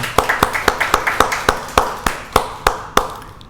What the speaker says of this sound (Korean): 하나님 영광의 박수를 드리겠습니다.